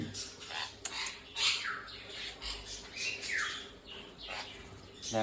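A pet sun conure parrot gives a run of sharp, shrill squawks and chirps at close range, in irregular bursts over a faint background hum.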